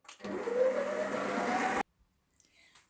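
Electric mixer whipping four eggs with one and a half cups of sugar for a chocolate sheet cake, a steady loud motor whir with a rising tone that cuts off abruptly, followed by faint clatter.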